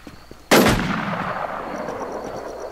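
A single loud gunshot cracks out in Infestation: Survivor Stories, followed by a long fading echo that rolls away over the next two seconds.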